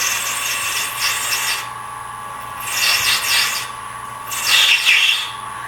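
A woodturning gouge is sharpened by rubbing it with another sharp tool, making three scraping, rasping strokes, each lasting about a second and separated by pauses, heard close up with no talk.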